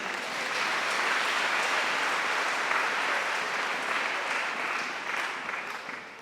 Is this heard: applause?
yes